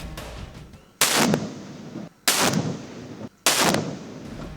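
Explosives are destroyed in a controlled detonation inside a three-foot pit dug at the foothills, giving three sharp, loud blasts about a second apart, each followed by a rumbling decay.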